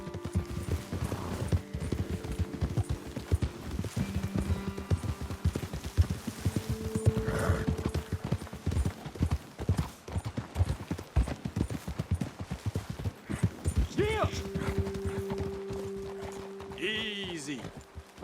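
Horse hooves clip-clop steadily in the Red Dead Redemption video game, a rhythmic trot that fades as the riders slow, with game music and people talking over it.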